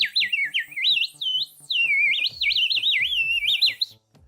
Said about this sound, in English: this particular chirping bird whistle seems to be the easiest to print and the most likely to work